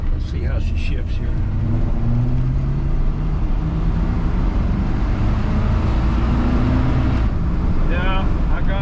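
Rescued square body Chevy truck driving and moving through its gears, the engine droning loudly up and down in pitch with wind buffeting the microphone and brief voices at the start and end.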